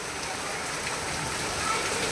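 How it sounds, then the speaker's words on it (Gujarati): Rain falls steadily in Surat during a thunderstorm, an even, dense hiss of water on surfaces with no distinct thunder and no talking. "અને વરસાદ એ કેટલો પડે છે"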